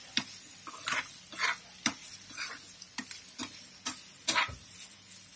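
Chopped yellow bell pepper is stirred in a bowl, giving a string of soft, evenly spaced clicks and scrapes, close and quiet with no talk.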